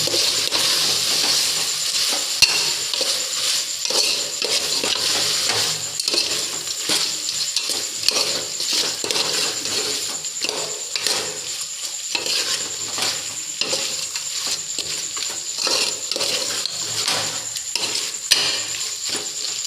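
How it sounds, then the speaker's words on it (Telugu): Cooked-down tomatoes for a Hyderabadi chicken curry are stirred in a hot pan, a steady close sizzle broken by repeated scraping spoon strokes throughout, with no talking. "బాగా తరిమి పెట్టుకున్న టమాటోస్ మళ్ళీ బాగా కలుపుకోవాలి."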